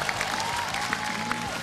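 Brief applause from a live audience after a band's cover performance, steady clapping at moderate volume with a few sharper claps standing out.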